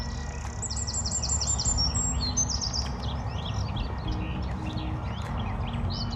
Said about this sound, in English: there's a garden warbler singing up there